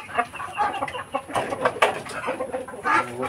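Free-range chickens kept in a cage cluck and murmur close by, a scatter of short overlapping clucks and squawks in a backyard setting.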